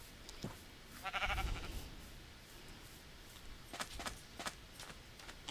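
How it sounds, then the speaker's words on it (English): Sheep in Minecraft bleat several times, soft and fairly distant, with a louder bleat early on and a cluster of short calls later over a faint background. "Just chilling out by the sheep?"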